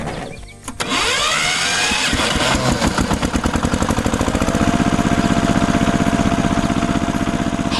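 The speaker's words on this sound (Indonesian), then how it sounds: "Traktor merah sedang menarik trailer yang serupa." A red tractor's engine pulling a trailer on a farm, cranking up then settling into a loud, steady, rapid chugging rumble that continues without pause.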